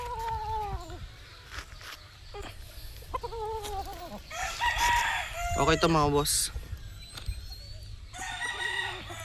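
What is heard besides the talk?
rooster crowing, gamecock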